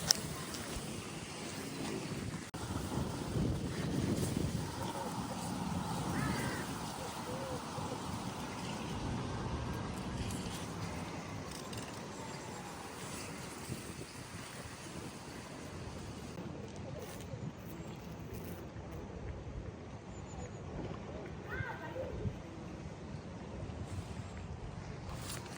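Wind blows outdoors in a meadow, a low, fairly faint rumble that gusts and buffets unevenly for around twenty-five seconds.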